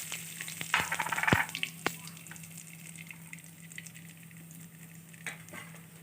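Cumin and asafoetida frying in hot oil, a soft steady sizzle up close with a brief louder crackling burst near the start and a few sharp taps from the pan.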